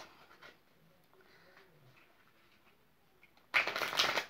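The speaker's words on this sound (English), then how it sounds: "let me give them a good shuffle" Tarot cards shuffled by hand, with quiet handling sounds at first and then a loud, brisk riffle near the end.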